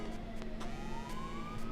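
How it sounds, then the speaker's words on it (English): A siren wails far off outdoors, its tone slowly rising and sustained at low volume behind a few faint clicks, with no voices. "just as the siren goes off on the background"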